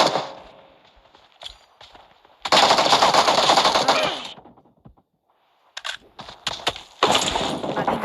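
Automatic gunfire in a PUBG match comes in loud, rapid bursts separated by short pauses and near silence, with clusters of sharp single shots between the longer volleys.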